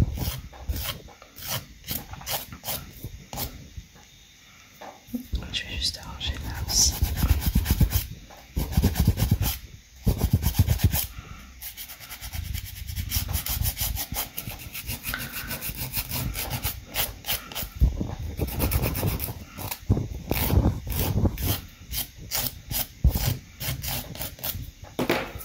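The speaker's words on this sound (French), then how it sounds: "je vais venir limer sur les côtés juste un tout petit peu" A nail file rasps back and forth along the sides of a fingernail, giving steady close scratchy strokes in quick repeated bursts with brief pauses, no talking.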